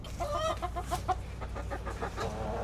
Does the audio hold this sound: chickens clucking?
yes